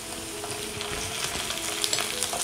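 Onions frying in a pan with ginger garlic paste, stirred, for sambar; a steady close sizzle with faint scraping, no voices.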